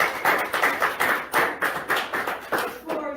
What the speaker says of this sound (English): Another round of applause for Monique Johnson.